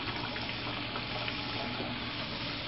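Water rushing steadily through a LAKOS centrifugal separator, a dense, constant hiss and churn that stays even and unbroken from start to finish with no voices.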